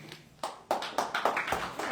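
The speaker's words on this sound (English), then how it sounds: "Applause and everything." Audience applause for a guest speaker at a water-fee meeting: a small, faint patter of scattered claps in a room, a few distinct hand claps in uneven rhythm, with no voices.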